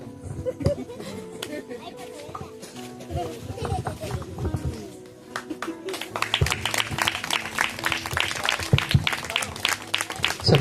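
A church audience at a Christmas skit breaks into rapid applause in the second half, after a stretch of speech and stage noise, with voices mixed in under the clapping.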